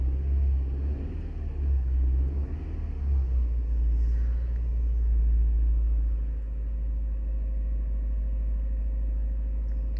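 A 2009 Toyota Corolla 1.8L engine idles with a misfiring cylinder 4 and a possible burnt valve, producing a deep, steady rumble that wavers unevenly, heard up close and on its own.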